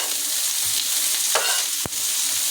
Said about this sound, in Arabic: ندي البصله كده تقليبه